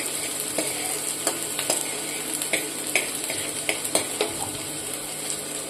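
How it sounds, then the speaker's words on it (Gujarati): Onion sautés in a spoonful of oil for corn soup, with a steady frying hiss and repeated light spoon scrapes and taps against the pan at a regular pace, close and unaccompanied by speech. "થોડી આપણે સાંતળી લઈશું થોડીક ડુંગળીને"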